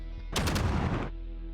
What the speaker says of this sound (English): Just gonna pepper the level with gunfire.